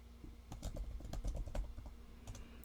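Rapid, uneven clatter of keys on a computer keyboard, close and steady for a few seconds with no voices, over a faint constant hum.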